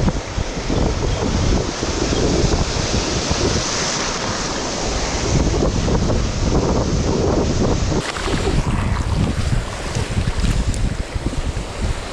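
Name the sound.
ocean waves on a rocky shore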